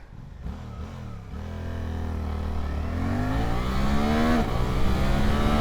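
A 2025 Suzuki GSX-8S motorcycle makes a hard launch, its engine note rising steadily through gears with short shifts, loud and close with wind rush growing as speed builds.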